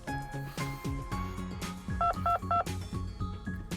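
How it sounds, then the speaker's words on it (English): Cell phone keypad tones in Wonderful Everyday, a quick run of short beeps as a message is composed, with soft game music under them. "I composed a new message on Takashima's cell phone."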